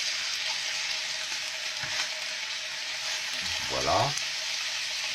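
Pieces of filet mignon browning in butter in a pan give a steady close sizzle and frying hiss throughout, with a brief voice speaking over it.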